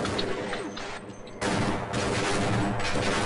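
Half-Life shotgun blasts, loud and close, packed into a dense burst of game combat noise that briefly dips and then surges back at full volume.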